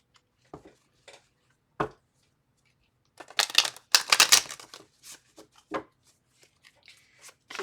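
Tarot cards are shuffled by hand in short, crisp riffling bursts, scattered at first and then a denser flurry midway, followed by lighter taps and slides, close and alone without talk.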